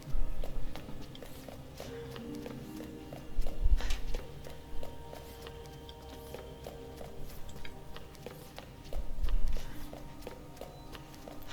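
Footsteps in the video game Resident Evil 2, a steady run of soft, fairly quiet steps with a few heavier thuds, no talk over them.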